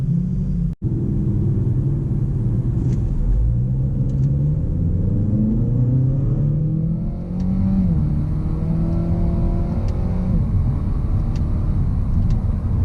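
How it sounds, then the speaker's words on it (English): A 2017 Acura ILX engine revs and climbs through several gears as it accelerates to highway speed, with a steady rising drone and road rumble inside the cabin, loud and continuous. "get this up to highway speed, at least for a second, to see the acceleration of the car"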